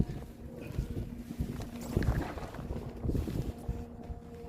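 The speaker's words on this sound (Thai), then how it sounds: "ลมแรงมากนะ" Strong wind at sunset outdoors in northeast Thailand buffets the microphone as a steady, rough roar, gusting louder and softer throughout.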